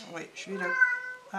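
A cat meows once, close and fairly clear, right after a person speaks briefly; another voice cuts in at the end.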